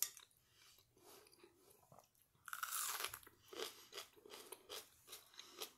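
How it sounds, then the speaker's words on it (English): Onion gets bitten and chewed with crisp crunches, the noise coming in a dense burst and then in rhythmic separate chomps. It sounds close and quiet, in a mukbang-style meal with spaghetti and a beef burrito. "I love the crunch of the onion."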